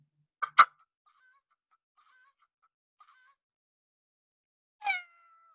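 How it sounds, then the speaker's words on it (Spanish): A hen gives two short, sharp clucks near the start. After a long silence comes a brief, meow-like call. "Ella es una gallina."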